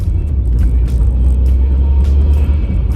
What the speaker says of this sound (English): I can hear my turbo.